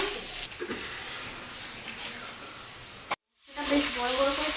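Fish sizzles in hot oil in a pan, a steady loud hiss that cuts off abruptly near the end before crackling returns more softly, with no talking.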